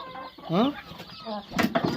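Chickens clucking close by as they peck at and eat ridge gourd on a farm, a run of short harmonic clucks and squawks rising midway and again near the end, with faint talk in the background.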